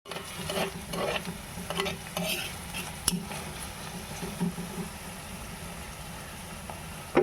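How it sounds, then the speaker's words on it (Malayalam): Onion, shallots, green chili and curry leaves with a little salt sautéing in a pan, a soft steady sizzle broken by repeated scraping and stirring clinks of a utensil against the pan, close up. "സവോള, ചെറിയ ഉള്ളി, പച്ചമുളക്, കറിവേപ്പില, ലേശം ഉപ്പ് ഇതെല്ലാം കൂടി ഇട്ട് നമുക്കൊന്ന് വഴറ്റിയെടുക്കാം"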